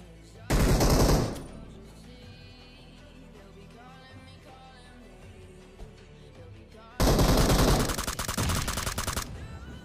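Automatic gunfire rattles through a mobile battle royale game in two loud, close bursts, a brief volley near the start and a longer sustained stream near the end, separated by quieter game ambience.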